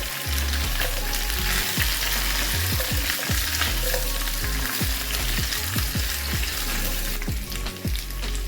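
Vegetables for a Bengali pui shaker chorchori stirred and sautéed in a pan, a steady loud sizzle with repeated scraping knocks of the spatula against the pan, no talk.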